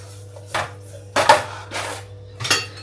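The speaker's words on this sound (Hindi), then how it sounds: "तो चलो जी, बर्तन धो लेते हैं फटाफट।" Dishes, pots and utensils clatter and clink during washing up in a home kitchen after a family anniversary gathering, with four or five distinct knocks spread over a steady low hum and no talking.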